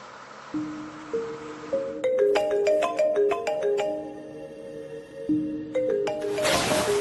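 A melodic phone ringtone plays a stepping sequence of bright electronic notes, clear and close, with no talking.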